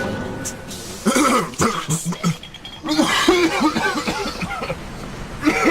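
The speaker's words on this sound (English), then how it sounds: "you should get that cough looked at" A game character coughs several times in short rough bursts inside a BioShock Infinite level, with throat-clearing sounds and a brief chuckle mixed in, fairly close and loud.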